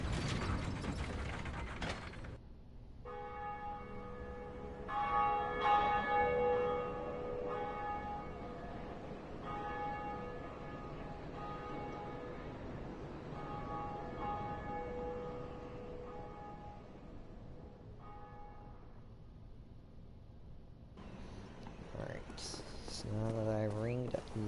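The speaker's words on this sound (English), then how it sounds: "Now that I ringed the bell" In Dark Souls, the Bell Gargoyles belfry bell rings with repeated metallic tolls over a grinding, ratcheting mechanism. Clanks and gear-like rattling run throughout, and talk is heard over it.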